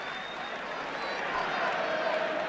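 Crowd and players applauding a goalkeeper's save in a 1973/74 Arsenal versus Manchester United First Division football match, a broad, distant wash of clapping and crowd noise that swells slightly toward the end.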